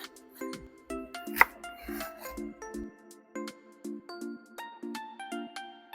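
A knife trimming the roots off green onions on a cutting board: a steady run of light, rhythmic taps about twice a second, close and clear, with no talking.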